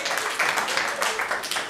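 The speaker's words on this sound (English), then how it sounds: "Round of applause." A live audience breaks into applause, a dense, steady wash of clapping from many hands that continues from start to finish at moderate loudness.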